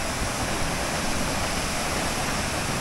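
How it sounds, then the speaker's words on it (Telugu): Enagasari waterfall in Telangana, a dense, constant roar of falling water, broad and loud and steady throughout without any voices. "ఫైనల్లీ మేమైతే వాటర్ ఫాల్కి వచ్చేసాం"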